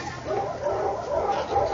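Dogs bark at an outdoor gathering in Batangas City, a few quick, fairly faint yaps in a noisy background.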